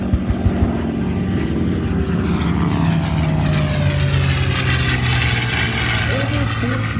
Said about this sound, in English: Packard license-built Merlin Rolls-Royce engine. And it is a sweet sound.